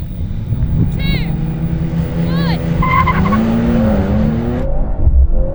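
Mercedes-AMG C63, BMW M3 Touring and Audi RS4 Competition at a drag race start, a loud close engine roar building under excited voices, with a few tire chirps and rising revs.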